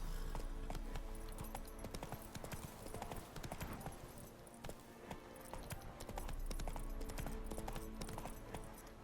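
Roach, the horse in The Witcher 3: Hearts of Stone, gallops with steady, rapid hoofbeats that run continuously under game music and ambience.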